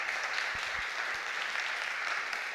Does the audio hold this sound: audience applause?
yes